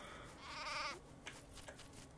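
Sheep bleating in the video game Craft the World, a single clear wavering bleat lasting under a second, followed by soft scattered game clicks and background ambience.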